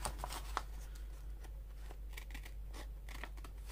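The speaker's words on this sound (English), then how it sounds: "I would just take my scissors and clean that up" Scissors snipping paper while trimming junk journal pages: soft, quick, irregular cuts and rustles heard close up over a steady low background hum.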